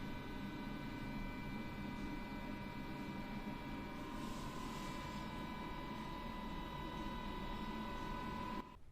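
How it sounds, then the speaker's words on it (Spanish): An LG washer-dryer on its drying cycle gives off a steady, quiet mechanical hum with a constant whirring drone, unchanging for several seconds before cutting off abruptly at the end. "escuchen cuál es el ruido máximo que puede sentirse cuando la lavadora está ejecutando el proceso de"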